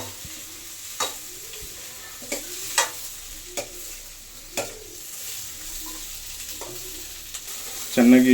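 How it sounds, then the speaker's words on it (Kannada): Onions frying in a pan for paneer butter masala, with a steady low sizzle broken by sharp, irregular scrapes and clicks of a spoon stirring, and a brief voice speaking at the very end. "ಚೆನ್ನಾಗಿ ಫ್ರೈ ಆದಂಥ ಈರುಳ್ಳಿ ಬ್ರೌನ್ ಕಲರ್ ಬರೋಷ್ಟು ಸಾಫ್ಟ್ ಆಗೋಷ್ಟು"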